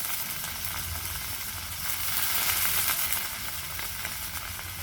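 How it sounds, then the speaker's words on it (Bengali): Dried fish frying in oil gives a steady, fairly loud sizzle and crackle that swells slightly midway, with no voices. "শুটকিটা দিয়ে তেলের ওপর ভাজি নেব"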